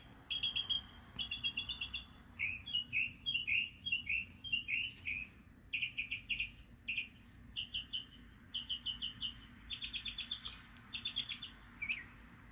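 Small birds chirp in quick repeated bursts of high, bright notes, fairly close, with short pauses between phrases over a quiet background.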